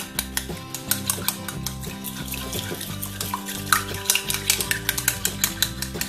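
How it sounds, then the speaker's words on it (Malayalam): A utensil clicks and taps rapidly against a bowl as eggs are whisked with salt, an irregular rhythmic clatter growing quicker toward the end. "ഉപ്പും മുട്ടയും കൂടെ നമുക്ക് നന്നായിട്ട് ഒന്ന് ബീറ്റ് ചെയ്തെടുക്കാം"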